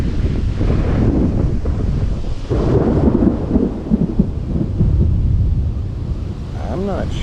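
Thunderstorm rumbles and gusting wind batter the microphone outdoors on a fishing trip in the rain, a loud continuous low roar with swells and brief cracks throughout.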